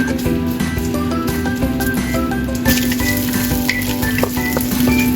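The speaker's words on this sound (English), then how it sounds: "Heat all in a pan, then add the fish cakes and stir-fry until fragrant." Fish cakes stir-frying in a hot pan, a dense steady sizzle with scattered scraping and clinking of a utensil stirring them, close and continuous throughout.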